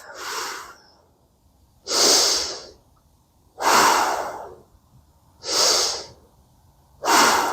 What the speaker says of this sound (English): So breathe deep into the belly.